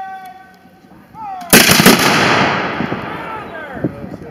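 A loud, ragged musket volley erupts from a rank of reenactors at the Cowpens 235th anniversary battle reenactment. It bursts out after a quieter lead-in with voices, then trails into a long crackling, rumbling decay.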